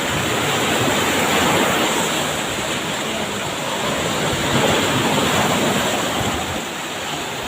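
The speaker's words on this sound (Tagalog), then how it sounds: "Malaki na yung alon" Big ocean waves crash and surge continuously at Lapak Beach on Siquijor Island, a loud roaring wash of surf mixed with wind buffeting the microphone.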